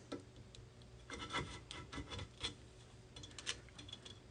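Blade trimming off excess grip tape along the edge of a pro scooter deck, with faint irregular rasping and scraping strokes, some sharper cuts, close up and without talk.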